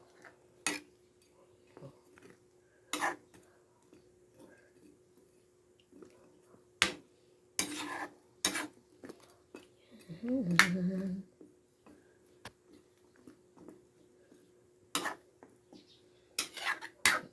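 A spoon stirs sliced radish and chili in a cooking pot, giving a few short scraping and clinking strokes against the metal amid intermittent clacks and a soft steady hum, with a voice speaking briefly between the kitchen sounds.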